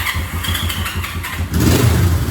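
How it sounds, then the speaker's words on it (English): A Honda CB350 twin-cylinder motorcycle, on choke, cranks with a pulsing rumble, then catches and settles into a louder, steady running idle close by. "All right, she's started up"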